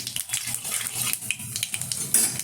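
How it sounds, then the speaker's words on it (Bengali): Nigella seeds tempering in hot oil in a pan, giving a steady, soft crackling sizzle with light scraping from stirring throughout. "দিয়ে দিচ্ছি এখন এই তেলে কিছুটা কালো জিরে"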